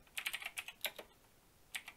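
Quick bursts of keystrokes on a computer keyboard while a command is entered for a Garry's Mod DarkRP setup, several close clicks in two clusters with a short pause between, near and clear with no voices.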